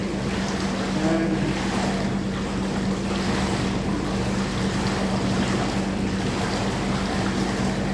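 Steady, dense bubbling and rushing water from a jacuzzi, a constant close wash of churning noise with a low hum beneath it and no talking.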